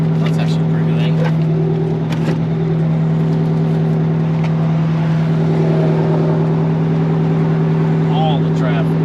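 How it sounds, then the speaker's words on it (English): A truck comes to collect dumpsters, its loud, steady engine drone rolling past nearby while people talk. "here goes the truck to get the dumpsters"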